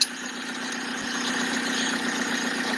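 A race engine with a cracked block and coolant loss idles steadily nearby, a constant rumbling drone with no revving.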